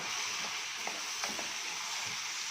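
Rice frying in a pot crackles and sizzles steadily, with a few soft scraping stirs of a spoon breaking through the close, continuous hiss.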